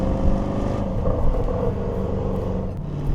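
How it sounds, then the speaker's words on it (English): A 2025 Jaguar F-Pace SVR V8 exhaust note heard from inside the SUV as it downshifts, a loud, close, throaty rumble with a brief rise and a short crackle near the end, with no talking. "That exhaust note is just intoxicating."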